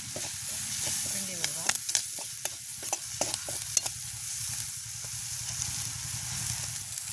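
Squid, onion and green chili are stir-fried with chili powder in a pan, heard as a steady sizzle with repeated sharp clacks and scrapes of a spoon, close and busy, with a faint low hum underneath.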